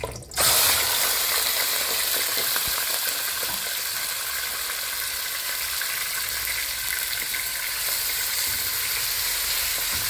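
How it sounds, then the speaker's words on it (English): Pork sizzles steadily as it fries in a pan for a Kenyan-style wet fry, with a continuous loud crackling hiss and occasional stirring scrapes throughout. "So what I'll do, I'll keep stirring."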